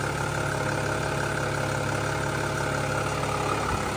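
A Mercedes turbo diesel CDI engine in a $600 project car idles with a steady, even low rumble and diesel clatter, close and loud throughout, with no talking.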